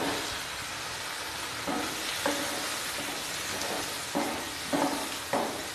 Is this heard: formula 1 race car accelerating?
no